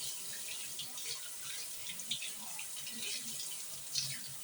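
Tap water runs steadily into a sink while hands are rinsed, a soft continuous splashing with small drips and shifts as the hands move under the stream; no talking.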